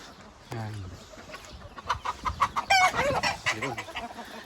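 Native chickens and small chicks clucking and peeping in a New Zealand backyard flock, a run of soft clucks and chirps close by, with a person speaking quietly over them.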